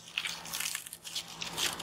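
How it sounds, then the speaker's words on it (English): A car tyre rolls over and crushes a crunchy object, producing a quick burst of sharp, crackling crunches and splintering snaps, close by and fairly quiet, with no talking. "Oh my god, that crunching sound."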